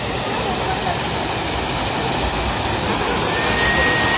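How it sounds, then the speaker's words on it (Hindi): Forest waterfall in Uttarakhand rushing as a dense, continuous broadband roar, close and loud, steady throughout with no clear breaks. "ये है एक्चुअल वाला वाटरफॉल"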